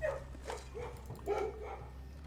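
Dogs bark and whimper in the puzzle game Blue Prince, giving several short, moderately loud yips close together over a steady low background hum.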